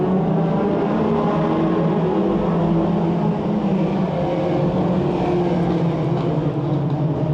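Mini stock race cars roar around Petaluma Speedway at the start of the main event, a dense, steady engine drone close by and continuous for several seconds.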